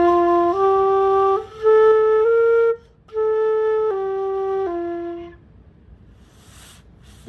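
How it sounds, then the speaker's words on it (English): A flute played by blowing across the embouchure hole, sounding a sequence of sustained, breathy tones that step between pitches, each held a second or two, close and fairly loud with a short breath pause midway. "You take your mouth and you put it on the mouth plate, and then you blow across the hole, and it would sound like this."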